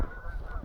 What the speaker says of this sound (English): Geese coming in for a land.